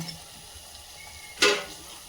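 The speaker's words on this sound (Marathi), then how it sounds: "आता यात पाणी घालूया." Low background sizzling, then a sudden loud hiss and bubbling surge as water is added to sizzling gravy in a hot pan, fading over the next half second.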